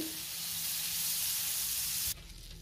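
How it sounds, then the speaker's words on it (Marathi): Butter sizzles on a hot tawa over a gas flame, a steady close crackling hiss that holds evenly, then drops abruptly to a quieter sizzle near the end. "मी गॅसवर तवा ठेवलाय, त्यावर थोडंसं बटर घालते"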